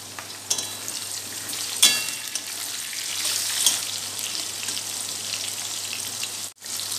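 Chopped tomatoes dropped into a hot frying pan for shahi paneer, giving a steady hissing sizzle with a few light clatters, close and continuous, with no talking.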